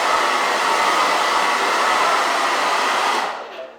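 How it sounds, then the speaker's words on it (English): A 2,100-watt hairdryer blows steadily with a broad, airy whoosh at close range, running at constant strength before cutting off and trailing away near the end. "If you take this hairdryer for example,"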